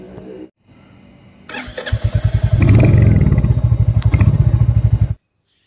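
A motorbike engine is started close by. After a click and a short pause, the engine cranks and catches, then runs at a loud, rapid idle with a pulsing beat and a slight rev before it cuts off abruptly.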